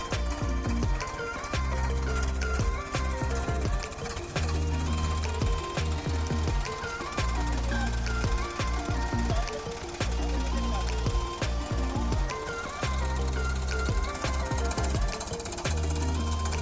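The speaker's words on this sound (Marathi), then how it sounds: "मला तुरी काढायचं मशीन" A pigeon pea threshing machine runs loudly and steadily on a farm threshing floor, with a heavy, rapid pounding rhythm and mechanical rattling.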